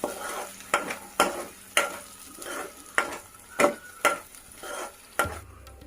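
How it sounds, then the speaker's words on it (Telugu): A spoon stirring chilli powder, salt and garam masala in a hot pan, about a dozen regular scraping strokes over a soft sizzle, close and clear, with no voices. "ఇప్పుడు అంతా ఒకసారి మిక్స్ చేసుకుందాము"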